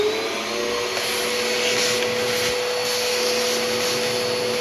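A Sanitaire SC679J upright vacuum cleaner running upstairs gives a loud, steady motor drone with a high whine that stays unbroken from start to finish.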